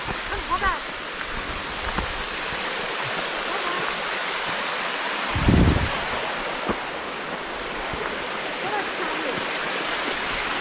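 Continuous rushing of the Wedenbach waterfall over tufa stone in the Schauertal near Streitberg, a steady broadband roar heard nearby with brief handling bumps and a short burst of wind noise midway.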